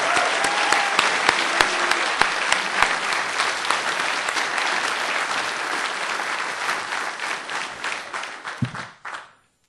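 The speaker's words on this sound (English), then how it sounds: "a big round of applause for all of these graduating students" A graduation audience at a mathematics ceremony applauds the graduating students with dense, sustained clapping from a sizeable crowd that holds steady for several seconds, then fades and stops abruptly near the end.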